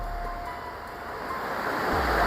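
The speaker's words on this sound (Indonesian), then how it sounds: "suara sungai ini sangat deras banget" A swift, fast-flowing river rushes loudly and continuously as a broad steady roar, close by and with no voices over it.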